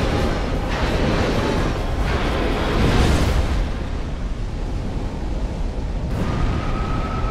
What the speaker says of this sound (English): Now that explosion kind of hurts.